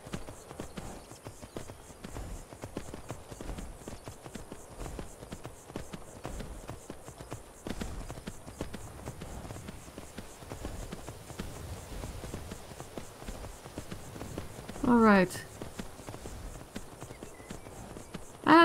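Horse hooves clip-clop steadily along a road in a fantasy video game, a rhythmic series of close, even hoofbeats continuing throughout, with a short burst of another sound near the end.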